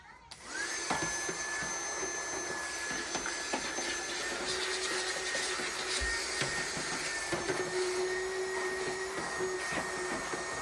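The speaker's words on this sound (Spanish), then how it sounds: "vamos a aspirar todo el interior" A vacuum cleaner sucking dust from inside an opened PlayStation console, a steady loud whining drone that starts after a brief moment and runs without a break.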